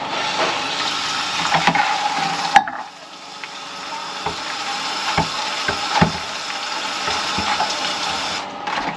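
Freshly picked nettles are washed in water, a close continuous splashing and swishing with occasional knocks and clicks against the container, steady throughout.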